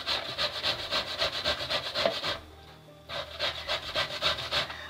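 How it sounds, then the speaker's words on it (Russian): Boiled carrot is rubbed over a coarse grater in rapid, even rhythmic rasps, close and clear, pausing briefly midway before the strokes resume, with no talk. "Морковку я потру на крупной терке."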